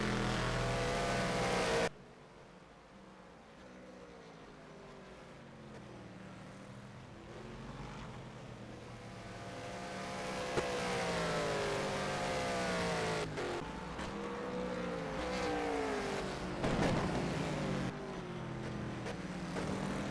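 Race cars accelerate around the Bahrain circuit in a racing video game, with engine notes rising and falling in repeated sweeping pitch climbs over a continuous roar. An abrupt cut early on leads into several passes of layered, revving engines.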